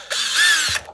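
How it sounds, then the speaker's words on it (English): A diamond core drill bit grinds into a stone ring in one loud, steady, high-pitched whine lasting most of a second, close up, with a short clunk as it stops. "using the diamond core drill bits, just going to town."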